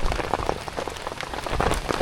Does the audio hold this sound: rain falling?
yes